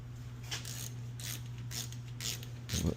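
A ratchet wrench tightening bolts during a car brake job gives several bursts of rapid clicking over a steady low hum, close and moderately loud, with a heavier clunk near the end.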